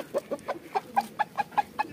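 Chickens cluck in a steady run of about ten short, close calls, evenly spaced with no talking.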